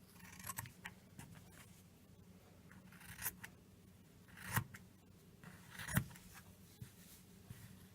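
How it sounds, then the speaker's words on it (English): Scissors cut dress fabric along a marked line in a series of close, separate snips and crunches with uneven gaps, a few louder, over a quiet background. "And you just cut on that white line."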